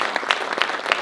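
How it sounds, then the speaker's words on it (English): An audience breaks into applause, a short burst of dense, crackling clapping that fills the space with no voices over it. "give yourselves a big round of applause"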